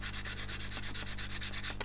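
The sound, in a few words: sanding aluminium foil on a scale model wing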